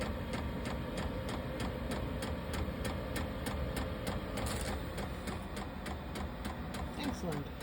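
A diesel heater runs in a tiny house camper, giving a steady rhythmic ticking pulse of about two beats per second over a constant low fan-like drone.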